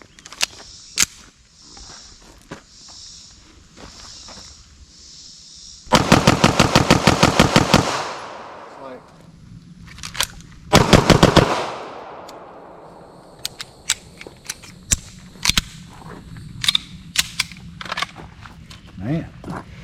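Close, loud rapid shots from an Alpha Foxtrot Romulus pistol firing 115 grain ammunition, in two quick strings plus scattered single shots at an outdoor range. Voices talk between the strings.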